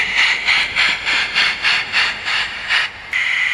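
A gauge 1 fine scale brass Black 5 live steam model locomotive reverses onto carriages, giving a loud, close, rhythmic chuffing of about eight regular exhaust beats with a steady hiss underneath.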